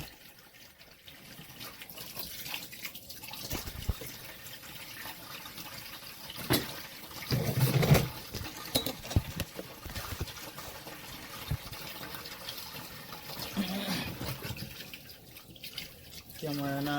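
Kitchen tap water running into a sink as food is washed for Jamaican steamed fish and pumpkin rice, a steady splashing stream with clattering and handling sounds, fairly close, with occasional voices nearby.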